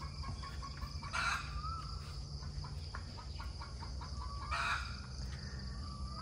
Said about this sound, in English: That hen you hear in the background is the hen that just got dislodged here from the little ones